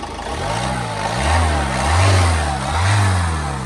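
A 2018 Ford EcoSport Titanium diesel engine is revved with the accelerator in three rising and falling surges over a running idle, loud and close, with no speech.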